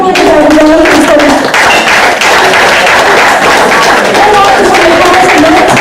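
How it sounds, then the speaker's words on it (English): Applause from a banquet audience rolls on steadily and loudly as the crowd claps together, a dense continuous wash with a few brief voices mixed in. "I would like to give her a round of applause for an excellent meal"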